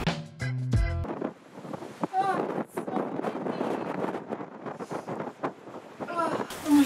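Gusty wind buffets the microphone at a high rocky lookout, a faint rushing roar rising and falling throughout, with a brief tonal sound at the start and people talking over it.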